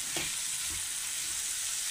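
Frying in a pan for a simple egg fry, a short burst of steady hiss with a couple of soft stirring knocks, close and moderately quiet, no voices.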